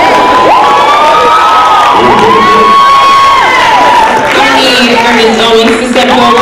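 Loud, sustained crowd cheering with high whoops and shouts greets a contestant stepping forward at the Penn Gent 2012 event, presented by a sorority chapter. It fills the whole stretch with a dense roar, and a few voices rise above it.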